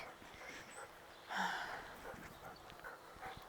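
Dog panting and snorting close by, soft rhythmic breaths with a brief louder snort or huff near the middle, fairly faint against a quiet indoor background.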